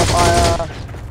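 A burst of video game gunfire, loud and dense, fading quickly into a short decaying tail.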